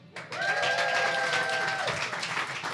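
A live studio audience at a talk show claps and cheers after a short silence, a sustained burst of applause with a whoop or whistle riding on top before easing slightly.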